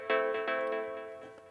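Choppy chord stabs from the Massive synth in a chill deep house track: short, bright, harmonically rich chords pulsing in a quick repeating rhythm, soft and gradually fading, with no voices.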